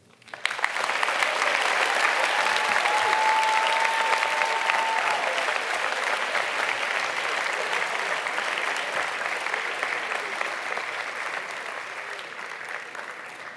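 An auditorium audience at a school grade 8 moving-on ceremony breaks into dense, sustained applause that swells quickly and stays loud before slowly thinning toward the end.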